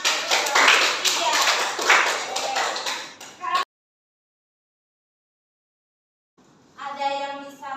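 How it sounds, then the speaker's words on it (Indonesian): Applause from a classroom of students in Indonesia, a dense burst of many hands clapping for about three and a half seconds, then silence before a short stretch of other sound. "Tepuk tangan untuk jawaban ketiga."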